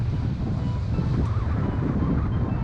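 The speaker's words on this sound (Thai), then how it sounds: "คลื่นลมมันไม่เป็นใจนะครับ" Strong wind buffets the microphone over sea waves during kayak fishing, a loud continuous rumbling roar with surf washing underneath and no pauses.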